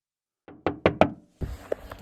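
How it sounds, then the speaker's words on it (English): Knocking on a door at a campsite in a national forest: three sharp knocks in quick succession, close and distinct, followed by a softer burst of thumps and clatter. "Someone just came knocking on my door in the middle of the national forest"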